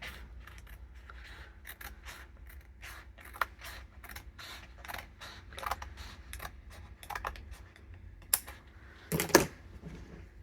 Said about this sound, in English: I think we will just trim off the edge.